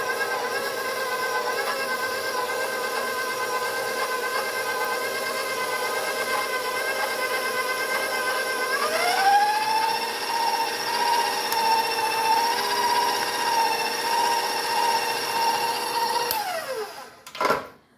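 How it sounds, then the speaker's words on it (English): An electric mixer runs on low speed through gingersnap cake batter, giving a steady whirring motor hum close by that steps up slightly in pitch partway through and then winds down to a stop near the end. "whether it's a stand mixer or hand mixer, start on low speed"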